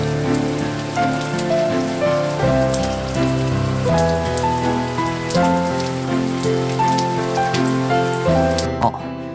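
Heavy squall rain pours steadily and loudly, a dense, unbroken patter that runs under sustained musical tones throughout before cutting off abruptly at the end.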